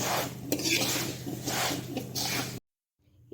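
Fried rice snack is mixed with chillies in a bowl, giving brisk scraping and rustling bursts in a few rhythmic pulses, then abrupt quiet.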